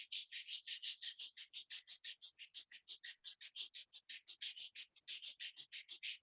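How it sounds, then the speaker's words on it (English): Palms rub briskly together in a steady back-and-forth rhythm, a rapid series of close, dry swishes of even loudness with no talking over them. "Rub your both palms."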